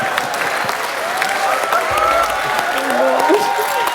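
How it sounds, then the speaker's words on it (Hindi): A live studio audience on a Hindi comedy show claps loudly and steadily, with voices mixed in beneath the applause. "जोरदार तालियां"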